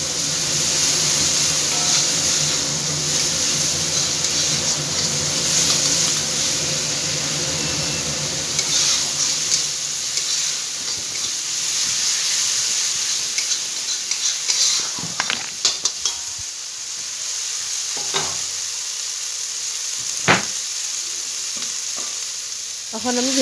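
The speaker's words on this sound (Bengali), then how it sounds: "এখন আমি মশলাটা ভালো করে কষিয়ে নেব।" Spice paste for a fish curry with cauliflower and potato sizzles and fries steadily in a pan, with stirring scrapes and occasional clinks of the spoon against the pan throughout; no talking.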